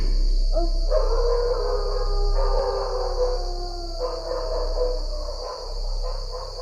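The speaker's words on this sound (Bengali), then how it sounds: "দূরে কুকুরের হিংস্র চিৎকার ভেসে আসছিল" Distant dogs howl fiercely in a dark audiobook soundscape, long wavering cries rising and falling over a steady low hum, with a few bird-like calls mixed in.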